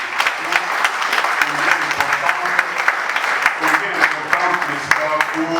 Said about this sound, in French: je voudrais qu'on puisse applaudir chaleureusement l'organisatrice de cette manifestation